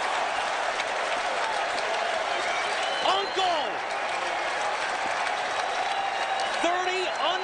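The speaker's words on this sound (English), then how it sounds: "Even the fans are cheering now." Baseball fans at a stadium in Baltimore cheering and applauding during a Rangers vs Orioles game, a steady wash of crowd applause with a shouted call and a broadcaster talking over it.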